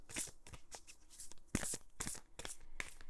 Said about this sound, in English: let's just start to shuffle the cards